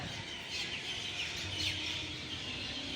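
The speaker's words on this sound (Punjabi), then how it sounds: "ਅੱਜ ਵੀ ਚਿੜੀਆਂ ਚਹਿਚਹਾਉਂਦੀਆਂ ਨੇ" Sparrows chirp faintly and steadily in old trees at Nankana Sahib, Pakistan, against a soft outdoor background, with scattered high twitters blending together.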